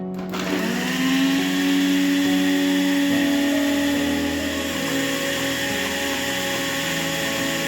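An electric mixer grinder runs steadily at close range, a loud whirring drone whose pitch shifts slightly early on, with no talking.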